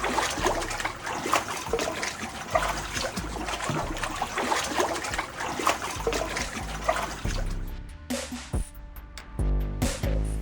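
Cold water flows and splashes around someone wading through an old stone tunnel, a steady close gurgling rush with sloshing steps that turns to choppier splashes near the end.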